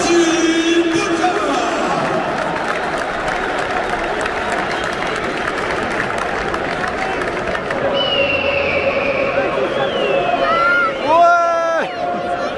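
A stadium crowd at the Allianz Riviera during a Nice versus OM football match applauds and cheers in a steady, broad roar, with nearby voices and shouts rising above it toward the end.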